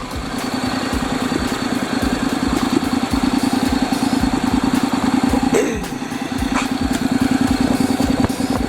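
Honda DCT motorcycle running on its center stand with the rear wheel spinning, a steady close engine drone with rapid pulsing throughout and a brief dip in level midway.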